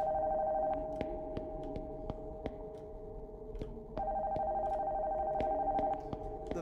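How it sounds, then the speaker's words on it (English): A telephone rings upstairs in the horror video game Nocturnal Visit, a repeated electronic ring in bursts, fairly faint and distant-sounding, accompanied by scattered clicks and ticks. "The phone from upstairs is ringing?"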